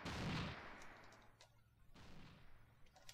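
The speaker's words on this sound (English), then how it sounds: "Not particularly accurate artillery fire." Distant artillery fire in the flight game IL-2 Sturmovik aimed at an airfield, a couple of muffled booming bursts with rumbling decay, fairly faint against engine drone.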